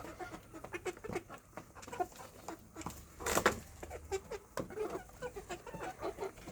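A flock of growing BV380 chickens keeps up a steady chorus of chirping and clucking calls nearby, with no talking.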